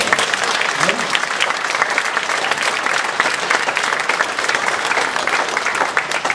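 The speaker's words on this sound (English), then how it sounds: "How about a round of applause?" Steady, dense applause from an audience at a charity bike event, continuous and fairly loud throughout with no break.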